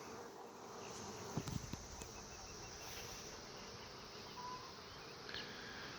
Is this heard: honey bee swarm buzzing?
yes